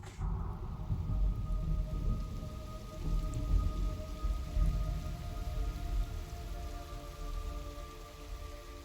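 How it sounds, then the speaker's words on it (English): Steady rain pours in the video game Metal Gear Solid Delta: Snake Eater, a dense continuous hiss with low thunder rumbling underneath and a faint tonal hum, no voices. "It's raining blood."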